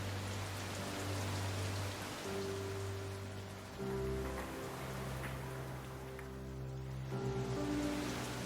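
Steady rain falls across the whole stretch with no speech. It is a soft, even patter under quiet background hum.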